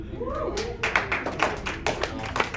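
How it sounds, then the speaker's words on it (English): Small group applauding a participant named Robert in a regenerative farming session, a short burst of scattered individual claps with a voice speaking over the start. "Let's give Robert a round of applause."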